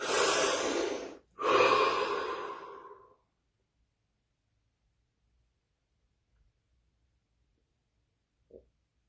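A single deep breath, a long audible inhale followed after a brief pause by a slow, heavy exhale, close and clear, then near silence apart from a faint soft sound at the end.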